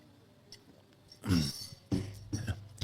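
Two or three harsh coughs come close together, loud against a quiet background.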